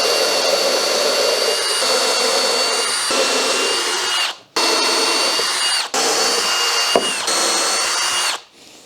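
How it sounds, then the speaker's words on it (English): A power drill whines steadily, near and loud, stopping and restarting several times as countersunk holes are bored into wood for a shooting board jig. "We're going to drill some countersunk holes in this"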